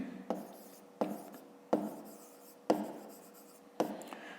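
Pen strokes on notebook paper during a fifth-grade maths exercise: five distinct scratchy writing bursts, each starting with a sharp onset and trailing off, close and fairly quiet with no talking.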